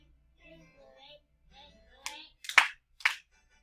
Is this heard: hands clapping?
yes